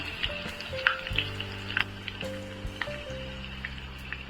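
Curry leaves, ginger-garlic paste and finely chopped green chilli frying in hot oil for kadhi, a steady close sizzle with sharp crackling pops and a faint tonal hum underneath.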